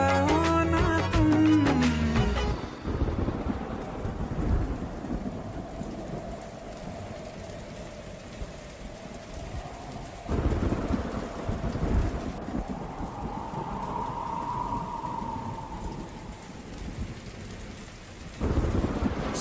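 Heavy rain pouring with rolling thunder within a Hindi romantic Bollywood song, a steady wash of rainfall under repeated deep thunder rumbles, with a short musical passage at the start and a sustained tone drifting through the storm.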